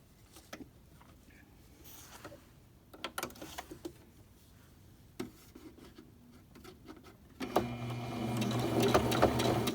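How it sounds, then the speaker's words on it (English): A sewing machine stitches a folded fleece strip for a Christmas stocking; after quieter handling noises, the motor kicks in near the end with a steady, close, loud whir. "I just place it under and start sewing."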